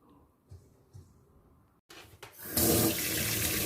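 Water from a kitchen tap gushes into a sink while food is rinsed, starting after a few soft clinks and then running steadily and close. No one speaks.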